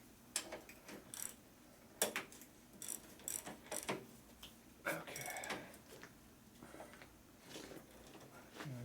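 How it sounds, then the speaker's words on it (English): Socket ratchet tightening the steering stem nut on a 2001 Gilroy Indian race bike, heard as bursts of close, rapid clicking in uneven spurts with mechanical clanks between them. "I'm going to tighten the stem nut. I'm glad I found this socket."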